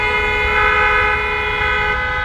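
A sustained vehicle horn blares loud and close in Tunisian street traffic, one long steady tone held for over two seconds with a droning hum underneath.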